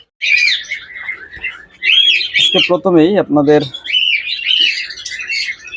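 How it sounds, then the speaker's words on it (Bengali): Australian doves in a breeder's collection give chirping and squawking calls, with a run of harsher, buzzy notes in the middle, heard close and under someone talking. "ডিম বাচ্চা ঘ্যারান্টি সহ অস্ট্রেলিয়ান ঘুঘু পাখিগুলো আমাদের কাছ থেকে সংগ্রহ করতে পারবেন"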